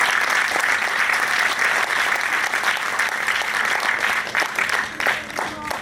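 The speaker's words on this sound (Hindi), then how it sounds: "एक जोरदार तालियां इन बच्चों के लिए।" At a children's theatre festival, the audience gives the young performers a loud, steady round of applause after their play. Dense clapping carries on for about six seconds with some crowd voices mixed in.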